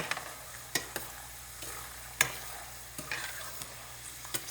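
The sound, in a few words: stirring mixed cereal chevdo while roasting in a pan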